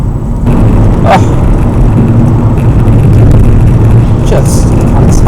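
A Vauxhall Corsa VXR Nürburgring Edition drives hard, its engine note loud and steady throughout, with a couple of brief sharp bursts over the constant road and engine roar.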